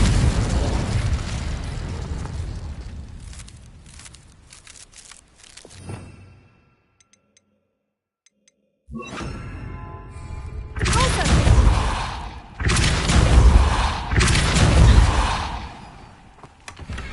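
Loud, booming blasts from the Confringo explosion spell in Hogwarts Legacy roll out as heavy bursts with long rumbling tails, dropping to near silence before another series of powerful explosive hits.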